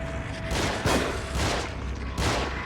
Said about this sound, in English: The more shooting you can let Joseph do, he doesn't have ammo problems.